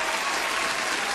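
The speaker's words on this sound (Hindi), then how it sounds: "उन लोगों के लिए ताली जरूर बजाऊंगी" Steady applause from a small group fills the whole moment, even and continuous with no voices above it, clapping for listeners of a radio film-quiz show.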